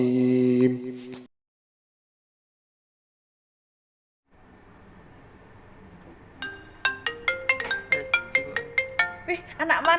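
A mobile phone ringtone for an incoming call, a melodic series of bright repeated tones that starts softly after a silence and grows louder and busier, heard close by after a brief voice at the start.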